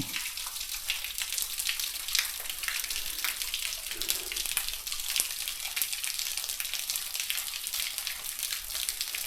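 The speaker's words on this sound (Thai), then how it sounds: "น้ำตกลงรู" Water falling into a hole inside a cave in Nong Bua Lam Phu, Thailand, a steady hissing splash close by with occasional brief drips and knocks.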